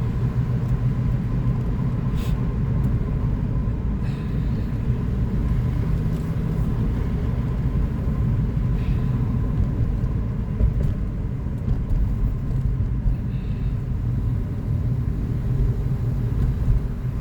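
A car drives along a road with a steady low rumble of engine and tyre noise that stays constant throughout, with no talking.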